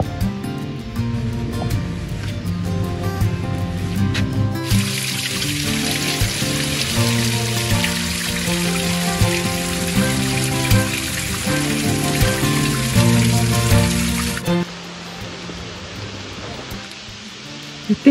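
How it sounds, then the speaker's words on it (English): A waterfall beside a trail at Emerald Pool in Zion National Park gives off a loud, steady rush of water for about ten seconds in the middle of the clip, under constant background music. "We're walking along the trail and we came across this beautiful waterfall."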